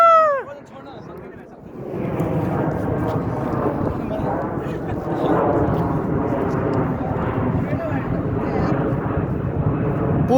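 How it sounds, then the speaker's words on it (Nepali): An airplane passes overhead with a loud, steady broadband roar that swells and holds for several seconds, following a brief burst of voices at the start. "त्यो एयरप्लेन कहाँ छ"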